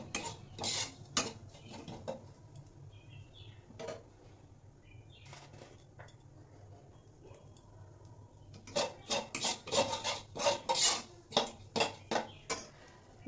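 Grated coconut and semolina being fried in a pan for a pitha sweet. A spatula scrapes and clatters against the pan in bursts, separated by quieter stretches with a faint low sizzle.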